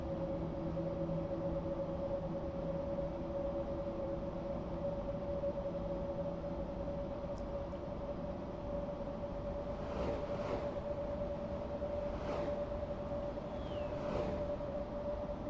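A Class 66 diesel locomotive in Train Sim World 6 on the West Coast Main Line holds a steady, droning engine hum throughout, with a few soft rushing swells in the second half.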